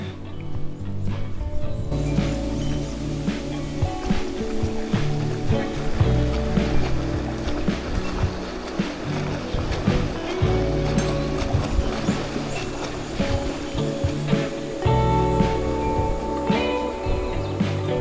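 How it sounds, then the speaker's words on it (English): A bicycle is pushed and ridden through a small lake in the Norwegian mountains, with continuous sloshing and splashing water from the wheels, fairly close and steady throughout. "We need to cross this small lake. I put on my sandals and I will try to ride it."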